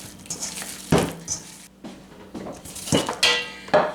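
Ground meat for Amish hamburger steaks is mixed by hand in a bowl, giving soft squishing and slapping with a few clinks of the dish, in irregular bursts up close.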